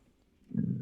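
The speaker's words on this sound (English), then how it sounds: "That was a based burp." A short, low belch erupts near the end of a brief quiet moment, close and fairly soft.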